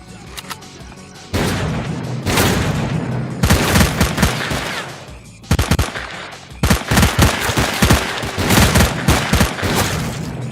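Bursts of automatic and single-shot gunfire from a firefight in the video game S.T.A.L.K.E.R.: Clear Sky, loud and close, with dense rapid volleys separated by brief pauses.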